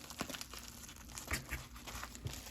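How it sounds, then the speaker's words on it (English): Bubble mailer holding trading cards being sealed, with soft crinkling and a few brief crunchy rustles of padded plastic and adhesive strip, close and fairly quiet, no talking. "And then seal off the bubble mailer."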